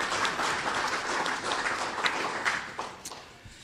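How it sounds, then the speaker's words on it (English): Audience applause at a 2016 sports awards ceremony held in a sports grill: a steady, moderately loud wash of many hands clapping together that thins out and fades toward the end. "if we could get a round of applause for our selection committee as well."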